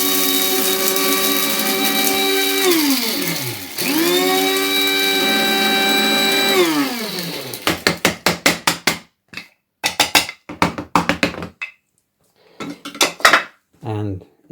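A kitchen grinder whirs up and winds down twice while grinding dried amla, Indian gooseberry, a steady high motor whine with falling pitch, followed by rapid rattling pulses and clattering bursts of the grinder jar.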